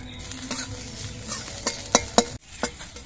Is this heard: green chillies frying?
yes